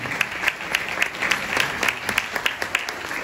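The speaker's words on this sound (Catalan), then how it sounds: "Un aplaudiment." An audience at a board game festival's prototype competition final in Barcelona claps steadily, a lively, fairly close round of applause with crisp individual claps standing out.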